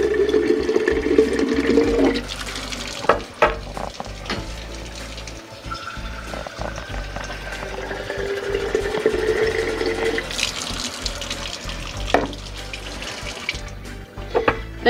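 Well water pours from a tap into a sprouting jar, a steady splashing rush that runs for about fifteen seconds, its pitch shifting as the jar fills, with a few knocks and clinks of the jar along the way.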